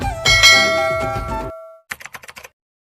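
A loud bell clangs and rings out, a subscribe-button sound effect in an animated comedy, its tone decaying over about a second and a half, followed by a quick series of short, softer metallic taps.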